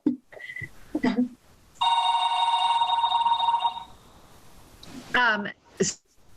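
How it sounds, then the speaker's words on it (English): An office telephone rings with a bright, trilling electronic bell in a burst of about two seconds, mid-volume, during a board of assessors interview. People talk before and after it. "Sorry about that phone."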